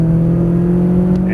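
A McLaren 570S Coupe runs on throttle on a driving course, a brief, steady, close engine hum with strong tonal notes and no audible change in pitch.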